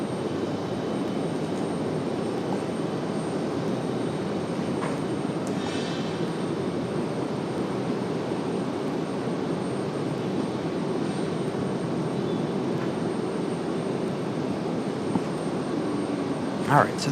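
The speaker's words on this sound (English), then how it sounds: "Alright, so the 777 on the way out." A Boeing 777 jet departs RDU airport, its broad engine roar steady and fairly loud at a distance, rumbling throughout with faint brief noises on top.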